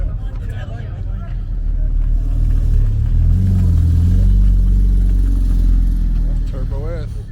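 A Porsche 911 Turbo S engine rumbles and swells to a loud, deep roar, then eases back off, with people talking nearby over the sound.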